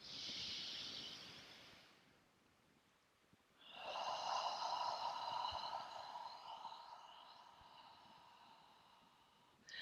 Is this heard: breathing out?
yes